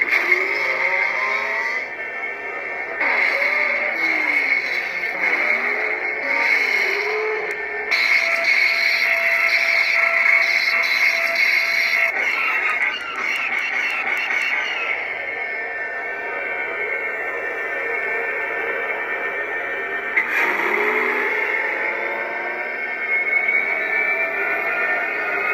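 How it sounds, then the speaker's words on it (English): Speeder bike sound font on a custom Sabers Forever lightsaber, a continuous loud whining engine hum with rising and falling revving swells and whooshing pass-bys, no talking. "And then the speeder bike sound font."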